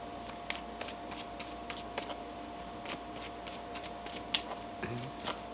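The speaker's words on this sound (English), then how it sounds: "One more shuffle." A deck of tarot cards is shuffled quietly up close, giving a rhythmic series of soft papery flicks and taps at an even pace with no voice over them.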